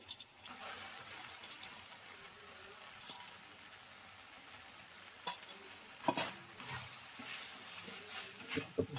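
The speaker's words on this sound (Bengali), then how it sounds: "বললাম এটা বেশিক্ষণ নাড়বো নি, হালকা করে একটু নেড়ে নেবো" Fried cauliflower being stirred briefly in chili and soy sauce in a pan, a soft continuous sizzle with a few sharper utensil knocks toward the end, quiet overall.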